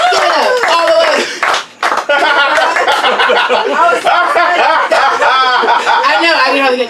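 Loud audience clapping at a comedy show, sharp claps mixed with laughter, whoops and overlapping voices close by, the noise briefly dipping before swelling again.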